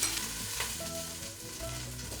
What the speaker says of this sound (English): Okay, onions and garlic go right in the pan. Stir that up.